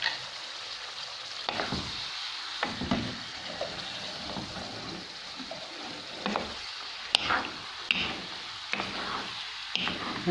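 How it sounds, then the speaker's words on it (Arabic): Chicken liver seasoned with salt and black pepper fries in a pan while being stirred, giving a steady close sizzle broken by repeated scraping knocks of the spoon, with no talking. "نقلب فيها حتى تنطيب."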